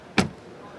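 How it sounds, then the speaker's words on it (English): A single solid thud as the door of a BMW X6 M Competition SUV shuts, short and fairly close against a quiet background. "door closing sound. That sounds pretty solid."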